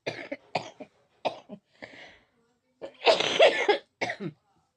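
A woman gives a series of short, harsh coughs in a quiet room, separated by brief pauses, ending with a longer, rougher burst and one final cough.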